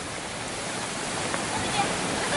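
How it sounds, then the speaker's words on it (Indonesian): Tarunggang waterfall roars as a steady, broad wash of falling water, close and continuous with no other sounds standing out. "Akhirnya kita sampai ke air terjun Tarunggang."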